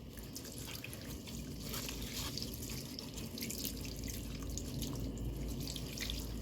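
Tap water runs steadily into a sink during a surgical hand scrub at a nursing demonstration, a continuous soft splash and trickle with no talk.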